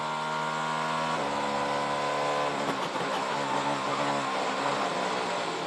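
Onboard engine of a Cadillac prototype race car in qualifying at the 12 Hours of Sebring, heading down to the turn 7 hairpin; a loud, sustained engine whine that shifts pitch, then a burst of rougher noise as it slows.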